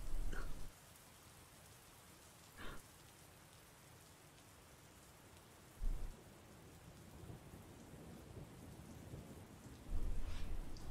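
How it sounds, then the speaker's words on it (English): Heavy rain falling hard, a dense steady hiss throughout with several louder thumps and bursts breaking through at irregular moments. "It is raining hard."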